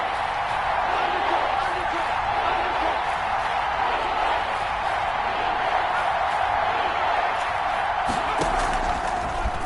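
Stadium crowd in a PS4 American football game, a constant broad roar that holds steady throughout with a few faint sharp thuds near the end.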